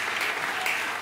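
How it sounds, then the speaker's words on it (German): A brief burst of steady applause from a comedy club audience greeting performers on stage, dense clapping throughout at a moderate level. "Begrüßt sie mit einem freudigen Applaus."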